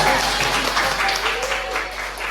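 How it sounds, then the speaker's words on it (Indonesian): A classroom of students gives a short burst of steady applause for a presenting group during a microteaching lesson, lasting about two seconds. "kita beri tepuk tangan kepada."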